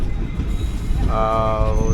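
Balurghat–Siliguri Intercity Express running on the rails, a steady loud rumble of wheels and carriage with a brief high screech partway through.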